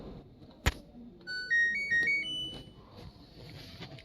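A washing machine plays a short rising melody of electronic beeps as it powers on, preceded by a sharp button click in a quiet room.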